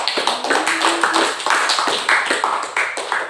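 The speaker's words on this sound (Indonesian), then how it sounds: "Tepuk tangan dulu." Classroom of children clapping together after a teacher calls for applause during a religious lesson about prayer, a steady run of close, fairly loud claps with a brief tonal note early on.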